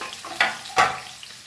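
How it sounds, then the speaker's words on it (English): French beans crisp-frying in oil for Goan fried rice make a close sizzle broken by two sharp stirring scrapes in quick succession over a brief moment. "We'll fry our French bean. Again, crispy fry."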